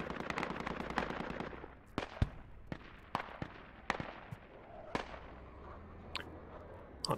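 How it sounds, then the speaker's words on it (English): Mortar fire in the military game Project Reality, heard as a series of sharp impacts and booms spaced irregularly over a quieter rumbling background, with a rapid burst of gunfire at the start. "I'm hearing their mortars."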